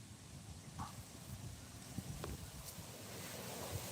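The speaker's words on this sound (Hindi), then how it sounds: "हवा चले तो खूबसूरत मौसम भी है।" Outdoor wind blows at midday and buffets the microphone. It makes a soft, low, continuous rumble with slight gusts, faint and without voices.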